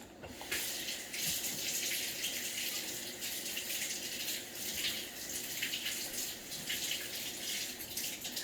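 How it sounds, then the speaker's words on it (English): Tap water runs steadily over halved oranges and lemons in a kitchen sink, a continuous close splashing gush lasting several seconds with no talking. "Let me rinse off the orange, the lemons."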